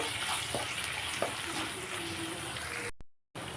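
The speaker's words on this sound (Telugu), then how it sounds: "ఇంకా పచ్చిమిరపకాయలు కూడా వేసేస్తాను. సో పచ్చిమిరపకాయలు కూడా వేసేస్తున్నాను. నీట్గా వేసేసి కాస్త ఫ్రై చేసేస్తాము." Green chillies fry in mutton keema in a pan, with a steady close sizzle and a few soft stirring knocks that cut out briefly near the end.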